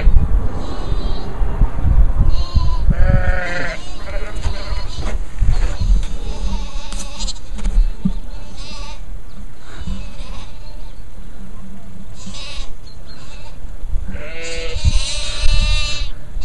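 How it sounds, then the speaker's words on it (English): Sheep bleating repeatedly in a neighbouring field outdoors, several loud calls rising and falling over steady wind noise, with more animals joining in toward the end. "That's a sheep in the field next door"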